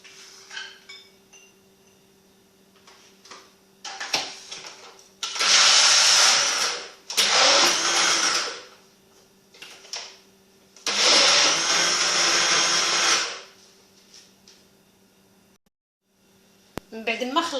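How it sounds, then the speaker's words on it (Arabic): An electric blender whirs through salt, milk and potato for a potato brioche dough, running in three loud, close bursts of steady grinding. Quieter pauses with faint background noise separate the bursts. "كنخلط هذا الشيء في المطحنه الكهربائيه"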